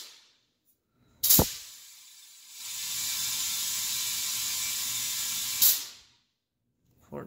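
An air compressor runs with a steady broadband hiss between two sharp clicks, its motor starting and then cutting out with a loud snap once it reaches pressure. No one speaks.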